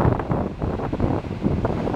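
Strong wind, at least force 8, buffets the microphone in loud, rumbling gusts over a steady roar of rushing water at the Salto Grande waterfall in Chile.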